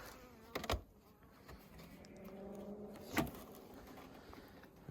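A new hive of honey bees gives off a faint, continuous buzzing, broken by a couple of soft knocks and bumps nearby in a quiet setting.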